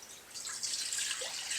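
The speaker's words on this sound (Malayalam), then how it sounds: "തീ കത്തിച്ചതിന് ശേഷം നമുക്ക് ഇതിലേക്ക് കഞ്ഞിവെള്ളം ഒഴിക്കാം." Rice starch water poured into a new clay pot over a lit fire, a soft steady splashing and trickling pour, close but fairly quiet, with no talking.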